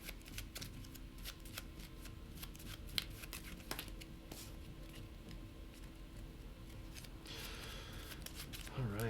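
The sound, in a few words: shuffling the AI card deck, Kingdom Death Monster board game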